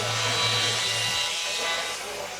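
Machining of weld edges on metal plate, throwing off hot chips: a steady, dense grinding-cutting roar with a low hum, continuous and close for the whole stretch.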